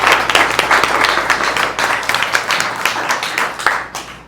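Applause from a tech demo audience in Las Vegas, a dense burst of many hands clapping that swells and then tapers off over a few seconds, close and loud.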